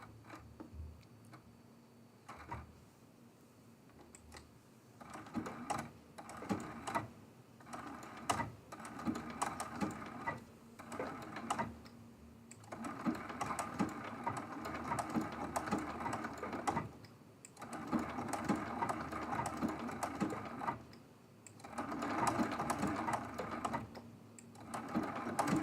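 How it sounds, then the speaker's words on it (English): A sewing machine runs a blanket stitch around the inner circle of a quilt-as-you-go block, rapid mechanical ticking in bursts with short pauses between runs, close and fairly quiet. "I'm going to use the very same blanket stitch on this inner circle"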